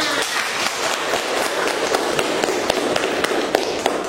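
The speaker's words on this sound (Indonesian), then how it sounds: "Oke, tepuk tangan dulu kita semua." A classroom of students claps together, a dense, steady patter of many hands with sharper individual claps popping through, close and fairly loud with no talking.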